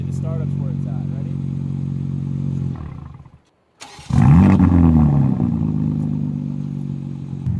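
BMW G80 M3 with the S58 engine in Sport Plus mode starting up: a brief starter whir and near-silent gap, then a sudden loud catch into a harsh, rumbling idle that flares before settling, heard close.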